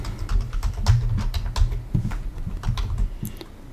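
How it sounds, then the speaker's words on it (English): Fingers type a search word on a computer keyboard, producing a quick, uneven run of close, crisp key clicks that lasts a few seconds with no talking. "I'm just going to type in the word secularism."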